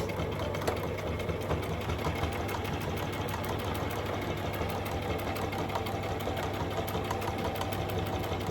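A sewing machine runs steadily, top stitching along the top edge of a fabric clutch purse, with a continuous dense mechanical whir and no pauses.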